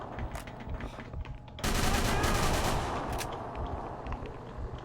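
A Tommy gun fires in Call of Cthulhu: Dark Corners of the Earth, with scattered shots giving way to a loud, sustained burst of rapid automatic fire that continues over rumbling echoes.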